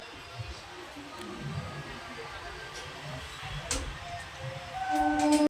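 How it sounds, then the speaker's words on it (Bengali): A MEMU passenger train on the Katwa–Azimganj line begins pulling out of a station, heard as a faint, low rumble and clatter from inside the coach that grows slightly louder toward the end. "তো এবার আমাদের ট্রেন ছাড়বে।"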